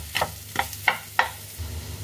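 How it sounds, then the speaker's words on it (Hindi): A spoon stirs spice mix into mashed boiled potatoes for Rajasthani garlic bonda, four close, scraping strokes in an even rhythm. "तो इस मसाले को हम आलू के साथ अच्छे से मिक्स कर देंगे।"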